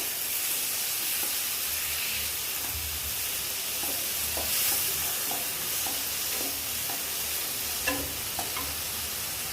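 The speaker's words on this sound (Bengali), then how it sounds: "প্রায় 3-4 মিনিট মতো অল্প অল্প জল দিয়ে এটাকে একটু ভাজা ভাজা করে নিয়ে" Soya chunks with spices and a little water fry and sizzle in a pan cooked with very little oil, with a steady hiss and irregular scraping clicks of stirring up close.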